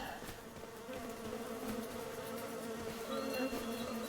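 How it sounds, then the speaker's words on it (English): Bees buzzing around beehives on a farm in Farming Simulator 2025, a continuous droning hum of many insects with a layered, wavering pitch, steady and fairly quiet, with no talking. "Hello, bees."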